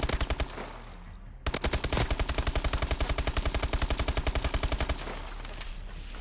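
Sten Commando submachine gun in Call of Duty Advanced Warfare firing loud, rapid automatic bursts on a firing range, with a short pause before one long, steady stream of shots.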